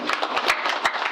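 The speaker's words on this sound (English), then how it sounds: "so please clap for yourselves." An audience at an investor week event gives a short burst of clapping, a few uneven hand claps close together over about a second.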